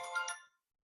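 A phone gives a short, faint chime of notification tones that stops after about half a second, leaving silence.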